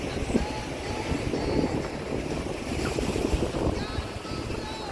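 Sea waves wash steadily against a rocky cliff on a secluded Ratnagiri beach, a broad continuous roar of surf mixed with wind buffeting the microphone throughout.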